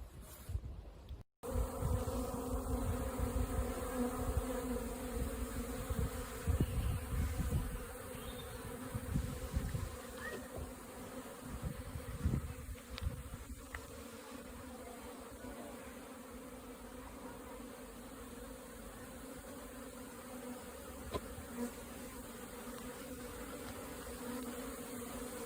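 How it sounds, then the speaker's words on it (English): A dense swarm of honeybees hums and buzzes continuously, a steady droning layer close by with individual insects weaving in and out. "I hope you enjoyed that bit of footage of my noisy bees."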